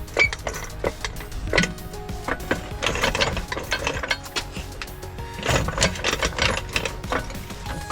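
Bolts driven in on the strut mount of a 2015-2020 GMC or Chevy full-size truck during a Magneride strut replacement, heard as a busy run of rattling, clicking power-tool bursts and metallic knocks, fairly close and continuous.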